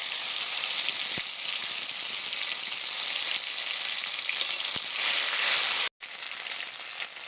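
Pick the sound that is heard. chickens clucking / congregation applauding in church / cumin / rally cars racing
cumin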